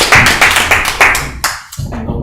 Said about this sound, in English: Applause to player number